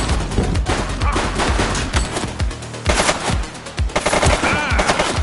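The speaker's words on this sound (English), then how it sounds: "Shots fired!" Loud, rapid bursts of gunfire from the police video game The Precinct crackle in quick succession, close and dense machine-gun-like volleys filling the whole stretch.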